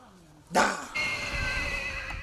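A horse ridden by a schoolteacher in Visakhapatnam district gives one loud, close whinny that breaks into a long wavering neigh and then trails off.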